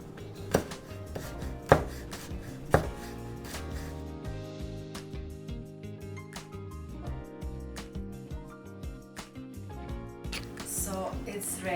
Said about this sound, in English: I'm gonna chop up a bit of chili for myself